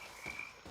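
A frog croaks in the game Shadow Infinite, a single short, steady croak heard alone and fairly close over a humming ambient background.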